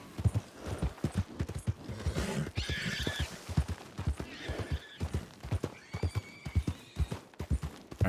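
Horse hooves clopping in a steady rhythm with a couple of whinnies, mixed with other game sounds, fairly close, in Red Dead Redemption 2.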